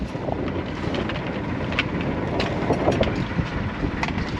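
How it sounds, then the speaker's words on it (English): Strong southerly wind of about 20 knots, force 5, on the sea during a spring scallop dive trip, buffeting the microphone with loud, constant broadband rumble and gusty roar. "Apologise if it's a bit windy."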